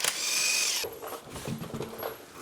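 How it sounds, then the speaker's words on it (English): A 21mm socket works the wheel lug nuts on a 2022 Toyota Corolla. A high mechanical whir comes first, then softer ratcheting clicks and rattles close by, quiet overall. "I'll be using a 21mm socket to get the wheels off."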